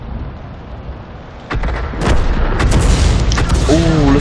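Tank cannon fire in World of Tanks: a sudden heavy boom lands mid-clip, followed by further blasts and rumbling battle noise, with a voice talking over it near the end.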